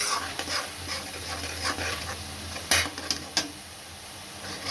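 Tomato paste and onions fry in a pan with a steady soft sizzle, punctuated near the end by a few sharp clinks of a spoon scraping and stirring.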